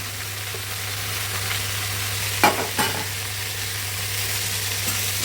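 Spinach being stirred into sambar in a pan, a low steady simmering hiss over a constant hum, broken by two brief scraping spoon knocks midway, with no voices.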